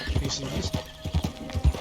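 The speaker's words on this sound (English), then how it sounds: "Because the horse doesn't seem to run like how it was." A horse gallops in Red Dead Redemption 2, its hooves thudding in a quick, steady rhythm under a person talking.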